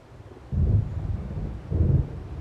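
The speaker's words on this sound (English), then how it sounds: "It seems there's a storm coming." In the Alan Wake Remastered video game, an approaching storm produces two deep, rolling thunder rumbles a second apart, low and heavy, with no speech.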